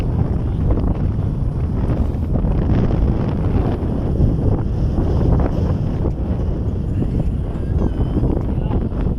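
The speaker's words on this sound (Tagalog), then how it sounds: "Hangin niya." Strong wind roars and buffets the microphone continuously at the Chocolate Hills in Carmen, Bohol, Philippines, a loud rumbling gust that never lets up, with faint voices beneath it.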